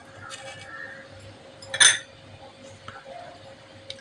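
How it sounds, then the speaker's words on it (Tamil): A spoonful of fennel seeds drops into hot oil in a pan, giving one short bright clink of a metal spoon against the pan, then a soft steady sizzle that stays low throughout. "1 ஸ்பூனு சோம்பு போடுறேன்."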